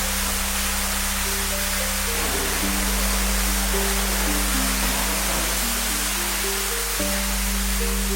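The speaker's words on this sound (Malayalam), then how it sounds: "അതോടൊപ്പം തന്നെ വെള്ളച്ചാട്ടം ഉണ്ട് എന്നുള്ളതാണ്." A waterfall inside a private resort room with a pool, a steady broadband rush of falling water that is loud and unbroken, with a faint low electrical hum and brief tonal tones running beneath.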